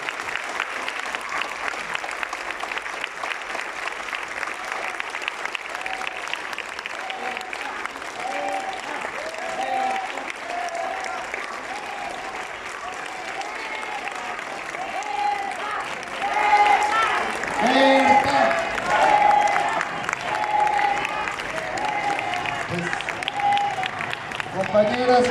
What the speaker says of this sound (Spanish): Un aplauso fuerte para la compañera Berta Luján